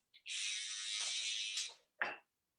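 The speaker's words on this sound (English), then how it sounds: "just using clipper over comb in the nape area" BaByliss PRO hair clippers buzz during a clipper-over-comb cut at the nape, a close, quiet hum lasting about a second and a half, then a short second burst.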